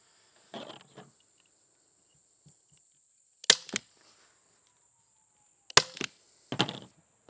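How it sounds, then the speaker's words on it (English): A staple gun fires sharp, snappy clacks while fabric is stapled onto a home studio sound panel. Four bursts come in irregular spacing with quiet gaps between them, close and fairly loud over a faint constant high whine. "I might go ahead and do one staple."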